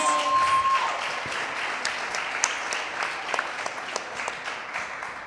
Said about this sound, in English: Can we get a round of applause for these amazing human beings?